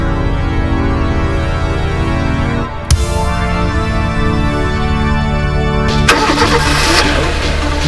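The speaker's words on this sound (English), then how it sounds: "Wondering where that weird engine noise is coming from." Truck engine cranking and catching, then running with a steady mechanical drone. A second sharp start-up surge comes near the end, loud and close, with no voices.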